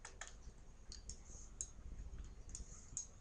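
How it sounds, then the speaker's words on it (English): A computer mouse clicks several times in quick succession while opening a PHP file in a browser; the clicks are soft, sharp and close, with no talking. "Click the index.php file"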